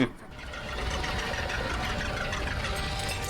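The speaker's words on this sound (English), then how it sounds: "Sounds like a combustion engine." A combustion engine runs steadily with a dense, even mechanical rattle and no breaks.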